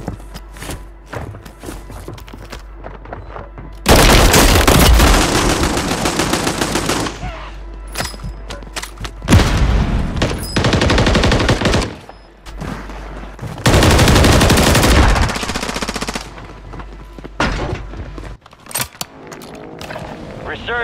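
Bursts of automatic gunfire in Call of Duty Warzone Lockdown quads erupt loudly in several long volleys separated by quieter gaps, with a voice calling out over the shooting at times.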